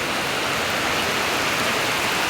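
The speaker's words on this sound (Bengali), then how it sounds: "দেখেন বৃষ্টির পানি পড়তেছে কি সুন্দর করে" Rain pours steadily in a village, a dense even hiss with pattering drops close by, no voices.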